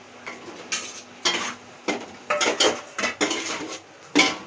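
Potatoes being stirred into tomato masala in a pan, repeated clinks and scrapes of a metal spoon against the pan in uneven bursts, with a faint sizzle between strokes and no talking.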